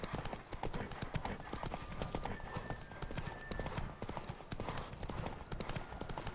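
Horse hooves galloping in The Witcher 3: Wild Hunt, a fast, steady clip-clop rhythm running close and loud throughout, with a brief whinny-like tone in the middle and game ambience beneath.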